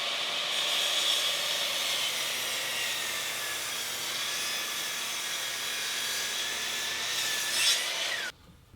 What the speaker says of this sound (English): the first thing I'm gonna do is cut it to rough length